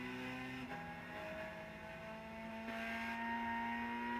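A turbocharged Lotus Elise engine in Gran Turismo 6 pulls under acceleration, a steady harmonic drone rising slightly in pitch, faint and continuous.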